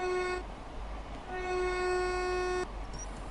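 A train in the Train Sim World game, running from Paddington to Oxford near Slough, sounds two steady tonal horn blasts over a low engine rumble, the second longer than the first.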